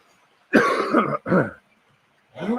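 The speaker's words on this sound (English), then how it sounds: "Stop coughing." A few harsh coughs in quick succession, close and loud, with a short gap before a final cough.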